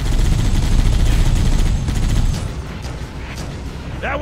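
Dense gunfire rattles in Halo CE Anniversary, a loud continuous burst of rapid shots and booms that eases to a lighter, more scattered exchange toward the end.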